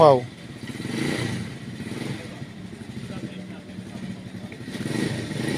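A motorcycle engine idles and revs in a steady mid-pitched drone that swells and eases. It runs throughout under people talking nearby.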